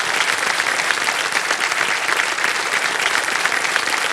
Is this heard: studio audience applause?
yes